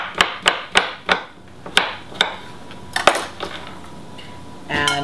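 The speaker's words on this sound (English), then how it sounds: "I'm going to angle this a little bit and go right across." A knife slicing a cucumber on a cutting board at an angle, giving sharp, evenly spaced knocks against the board that slow and thin out, followed by a brief clatter.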